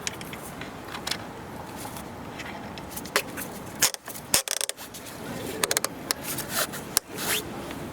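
An e-bike's rear wheel strap is ratcheted and tightened on a bike rack mounted on a Volvo XC, giving a series of close clicking, zipping and rattling plastic sounds in irregular bursts with short pauses.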